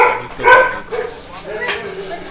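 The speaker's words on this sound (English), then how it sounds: "They're barking because someone's mowing." Dogs bark a few times in the background while a neighbor mows outside, the yips sitting under close conversational speech during a game review session.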